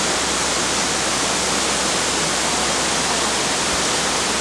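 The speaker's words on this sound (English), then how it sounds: "Another waterfall." A constant, dense roar of falling water, loud and unbroken like a nearby waterfall in Hawaii, with no other sounds standing out.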